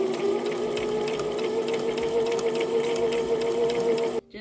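A sewing machine runs steadily, stitching through folded fabric during a thrift flip, a loud continuous close whir with a rapid needle pulse, stopping abruptly at the very end.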